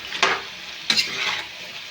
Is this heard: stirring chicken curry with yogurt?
yes